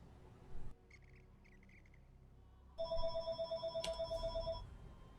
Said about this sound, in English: Phone's ringing, wouldn't you know it?